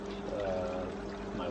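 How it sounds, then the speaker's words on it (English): Overflow water from an aquaponics solids outlet pours steadily into a settler tank, a continuous close splashing stream with no clear speech over it. "So I have the overflow coming down from the solid circuit outlet."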